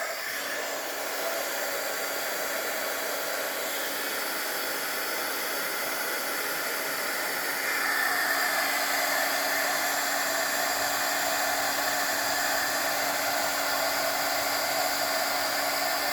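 A heat tool blows hot air onto stamped vellum, giving a steady, loud, close whooshing fan roar with a high whine that holds for the whole stretch and grows slightly stronger about halfway through, with no voices.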